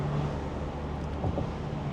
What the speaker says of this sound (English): you can enjoy the exhaust note. And yes, this is a 4-cylinder engine.